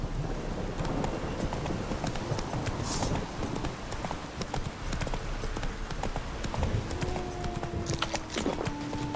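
Roach the horse gallops in The Witcher 3: Wild Hunt, a fast continuous drumming of hooves set in a dense, loud wash of outdoor game ambience with no pauses.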